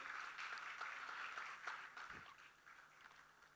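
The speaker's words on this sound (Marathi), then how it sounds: "जोरदार टाळ्यांच्या गजरात आपण त्यांचं स्वागत करूया" An audience at a stage event applauds to welcome a singer: a dense patter of many hands clapping at moderate distance, fairly faint and gradually thinning out toward the end.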